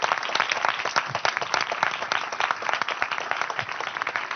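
Audience applause for José Prats, a dense, steady clapping crowd filling the whole stretch at moderate loudness without speech.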